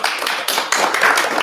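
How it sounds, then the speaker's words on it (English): Audience at a city council meeting clapping, a short burst of dense, close applause with overlapping claps and no clear pauses. "this is not a public forum to be clapping"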